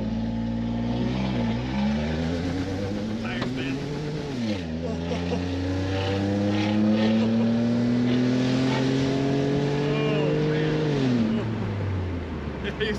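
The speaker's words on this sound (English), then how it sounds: "Give it a launch," A supercharged Toyota Sienna minivan launches from a standstill with a loud, close engine roar and supercharger whine, revs climbing steadily through several gear shifts, while people talk over it.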